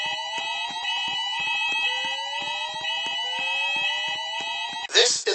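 A shopping mall fire alarm sounds repeated rising electronic tones with a rhythmic pulsing pattern, loud and continuous, before a burst of noisier sound at the end; a recorded voice evacuation message is part of the system.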